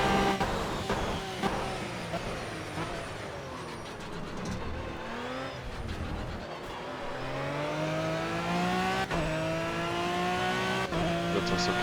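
An Aston Martin Vantage V12 GT3 in Project CARS laps Monza GP, its engine droning and rising through the gears, with pitch sweeps on shifts and braking, loud and continuous from start to end.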